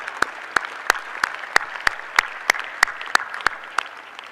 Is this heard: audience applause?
yes